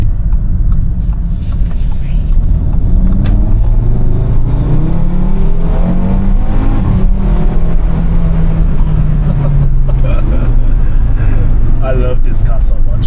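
A high-mileage Audi RS3 pulling hard at full throttle on a private road, engine note climbing steadily through the revs with a loud, rumbling in-cabin roar and a gear change midway, a voice speaking over it.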